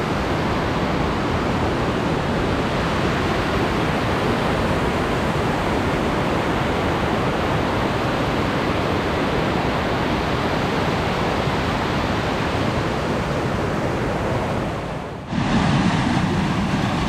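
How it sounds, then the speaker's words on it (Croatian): Water from Veliko Plivsko lake in Jajce, Bosnia, rushes down toward small watermills in a loud, constant roar that continues unbroken, with a brief dip just before the end. "Tu vidimo kako voda ide prema mlinčićima dolje"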